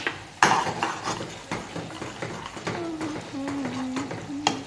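Onions frying in a pan are stirred with a metal utensil, giving sharp scraping clinks and knocks over a soft sizzle, with a person speaking briefly in the background.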